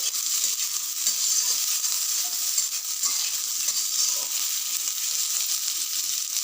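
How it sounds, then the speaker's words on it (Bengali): Cut potato pieces fry and sizzle in a pan while being stirred for a Bengali radish-greens dish, giving a steady, close hiss of hot oil with soft scraping from the stirring throughout. "কেটে রাখা আলুগুলো দিয়ে নাড়তে হবে।"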